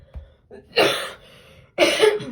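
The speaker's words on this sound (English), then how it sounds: "Hang on, I got one cough" Two harsh asthmatic coughs about a second apart, close to the microphone, with a short throat sound before them.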